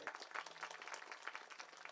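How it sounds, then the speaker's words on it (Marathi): Audience at a kirtan devotional gathering clapping together, a soft, dense, steady patter of applause heard from a distance. "एकदा सर्वांनी टाळ्या वाजवा मस्त."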